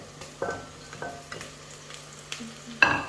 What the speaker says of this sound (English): now I'm gonna put my crushed garlic in here